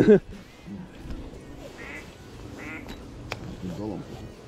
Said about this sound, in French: Un canard Un canard